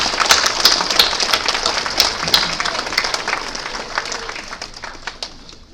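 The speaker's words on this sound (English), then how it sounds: "Please join me and give them a big hand of applause again." An audience at a Veterans Day celebration applauds veterans with a burst of dense clapping that gradually thins and fades.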